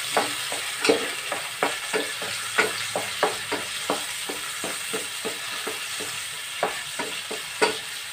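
Onion frying in a pan, a steady close sizzle broken by regular clacking stirs of a utensil against the pan, no talking.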